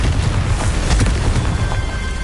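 Hogwarts Legacy's Confringo fire-blast spell explodes with a loud, sustained roaring burst of noise that fills the whole moment, dense and close with rumbling low end.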